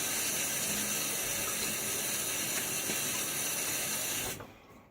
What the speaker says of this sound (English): I'm going to wet my face again